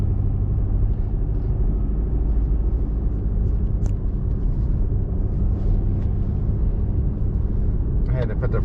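A car with four-wheel drive travels along National Forest Road 23 in Olympic National Forest, a loud, constant low engine and road rumble filling the interior with only faint clicks on top.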